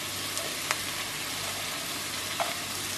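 Grated coconut frying in a pan with onion for a shark pickle, a steady loud sizzle with a few faint scrapes and clicks from stirring, no voices.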